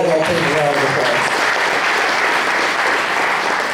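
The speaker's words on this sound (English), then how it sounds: "So let's give his girls volleyball team a round of applause." A room full of people at a county touchdown club meeting applauds a girls' state-champion volleyball team, steady sustained clapping, with a voice briefly heard at the start.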